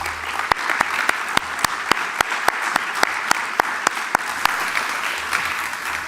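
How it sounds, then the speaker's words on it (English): A conference audience applauds, with a bed of many hands clapping and a few sharp, loud claps standing out in a regular rhythm throughout, and no talking over it. "I ask you for a big applause for all those supporters"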